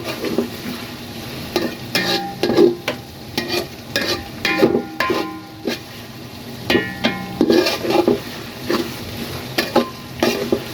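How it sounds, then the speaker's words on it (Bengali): Whole cloves, cinnamon and cardamom fry in hot oil while being stirred in a pan for goat liver, with a steady sizzle under repeated scraping and clinking strokes of the spoon, close and fairly loud. "গরম মশলাগুলো দিয়ে দিলাম পরিমাণ কি চারটা পাঁচটা লং দারচিনি এলাচ"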